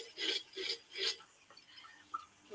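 A flat abrasive stone rubs across fired enamel, three distinct gritty rasping strokes close up and quiet, followed by softer scattered scraping.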